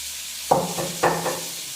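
Potato and okra with salt and turmeric frying in a pan: a soft sizzle broken by two sharp stirring scrapes about half a second apart, each followed by a brief burst of louder frying, no speech.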